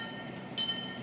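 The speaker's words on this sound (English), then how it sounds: "6-car train. Wow." A six-car train approaches, its rumble steady and moderately distant before growing louder partway through as it nears.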